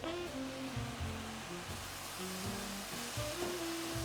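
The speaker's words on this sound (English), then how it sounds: "I want the beef to get a little bit of a sear on it" Beef searing in an overcrowded hot pan gives a steady, close sizzle throughout, with faint tonal clinks and scrapes over the frying hiss.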